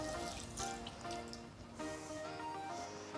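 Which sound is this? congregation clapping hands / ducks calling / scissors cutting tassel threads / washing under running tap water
washing under running tap water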